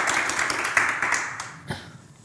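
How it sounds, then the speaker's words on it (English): An audience claps for guests at a talk, a dense, close burst of applause that fades out over about two seconds, with no voices over it. "So please give a round of applause to our guests for being here."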